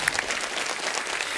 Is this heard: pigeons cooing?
no